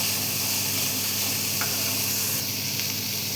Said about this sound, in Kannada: ಬೆಳ್ಳುಳ್ಳಿ ಎಲ್ಲ ಹಾಕಿ ಸ್ವಲ್ಪ ಫ್ರೈ ಮಾಡೋಣ